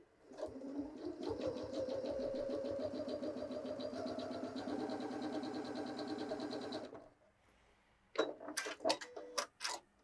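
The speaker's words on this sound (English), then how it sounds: "Let's all just do our best to sew a 1/4 inch using those lines." A Janome 6700P sewing machine runs a quarter-inch seam, a steady, close mechanical whir with a fast rhythmic needle chatter for about seven seconds, then stops, followed by a few sharp clicks and handling knocks.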